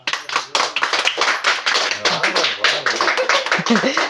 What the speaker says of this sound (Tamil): கைதட்டும் கைதட்டும்